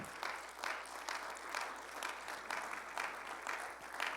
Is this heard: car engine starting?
no